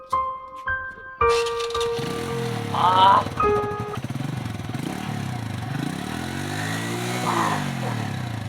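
A Bullet motorcycle engine runs close by, its note swelling and falling in repeated revs after a few brief tonal sounds at the start, loud and continuous.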